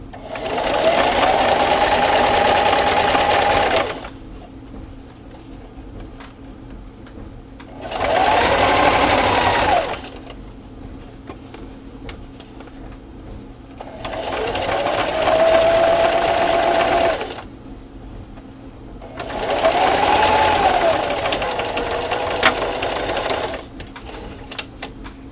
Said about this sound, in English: So I'm going to backstitch. And then I'm just going to sew all the way down.